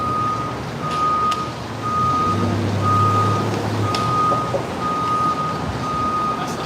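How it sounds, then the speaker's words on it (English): A Joe Coffee truck reversing on a New York City street near Hudson Yards, its backup alarm beeping in a steady repeating pattern over idling engine rumble and city noise, with faint voices in the background. "I'm almost going to get hit by a Joe Coffee truck"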